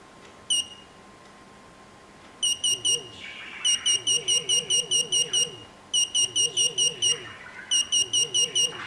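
A homemade pinpointer metal detector, tested on a small copper rivet, sounds loud, rapid bursts of high electronic beeps in repeated groups, with a softer warbling tone underneath between bursts.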